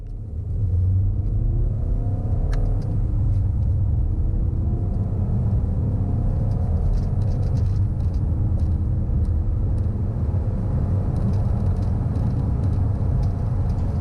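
A 2017 VW Tiguan with a 150 hp engine accelerates hard from 30 to 70 mph. The steady cabin rumble of the engine builds as it pulls, with audible shifts between gears and no talking.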